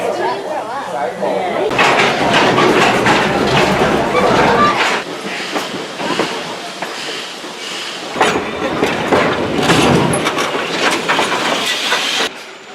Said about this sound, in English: We're riding a train. Look at the tracks.